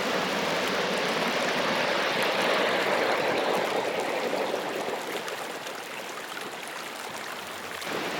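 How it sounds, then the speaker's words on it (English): The River Camcore flows through the parkland near Birr Castle toward a pond, a steady broadband rush of moving water heard alone without any voices. "the River Camcore, enters the domain near the castle and continues through a pond to flow into the Little Brosna River"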